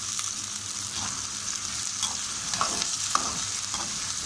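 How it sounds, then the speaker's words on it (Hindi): Potatoes frying in a pan with onions and ginger garlic paste, a steady close sizzle with scattered scrapes and knocks of stirring, moderately loud and continuous with no talking. "अब इसमें आलू डाल लेते हैं।"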